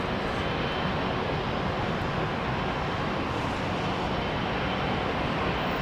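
Ethiopian Airbus A350 jet at Heathrow Airport in the evening, a loud, steady broadband engine roar filling the whole stretch without any voices.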